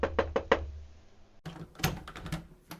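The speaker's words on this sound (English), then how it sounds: "gently knocks on Professor Higgins' door" Gentle knocking on a door in a radio play, four quick soft raps in a row followed by fainter thuds and shuffling, quiet and close with no talking.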